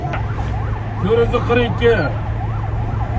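An ambulance siren wails in rising and falling sweeps on a city street, moderately loud under a steady engine drone, while someone talks over a loudspeaker.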